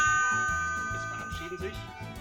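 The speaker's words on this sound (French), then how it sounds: "sonnez la cloche" Notification bell chime ringing out at the close of a French cooking segment, a bright sustained ding with several clear tones decaying slowly, with talk beneath it.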